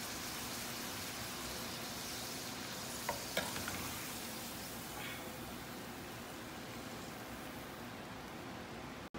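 Tortillas pass briefly through hot lard, giving a steady, even sizzle that holds at one level throughout, with a few soft clicks early on and no voices.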